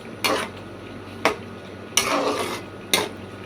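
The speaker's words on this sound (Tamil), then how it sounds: "கொஞ்சம் நல்லா கிளறி விட்டு அப்படியே சிம்மில் வச்சிடணும்" Metal utensil scraping and clinking against a pot of paruppu keerai kootu in four separate bursts, with soft background noise between strokes.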